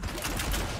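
Engineer's charged grenades in Risk of Rain 2 fire all at once like a shotgun, a dense, loud burst of overlapping blasts with a short, continuous rumble that never lets up.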